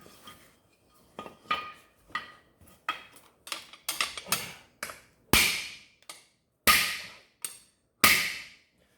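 Sharp metallic clanks from a drum brake being struck by hand, a dozen or so hits at irregular intervals, the last three loudest, ringing briefly and decaying, close up with no talk.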